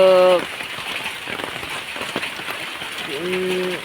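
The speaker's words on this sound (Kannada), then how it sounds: "ತುಂಬ ಜೋರು ಮಳೆ ಬರ್ತಾ ಇದೆ" Heavy rain pours steadily as a dense, hissing wash on surfaces, close and loud throughout, with a person speaking briefly at the start and again near the end.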